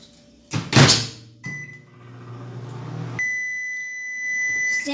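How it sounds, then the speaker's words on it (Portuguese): A microwave oven heating a mug pudding: a door clunk and handling noise, then a steady low hum with a faint high whine, shifting to a louder constant drone as it runs, close and clear with no voices. "Agora vocês vão ter que colocar no micro-ondas por 30 segundos 5 vezes."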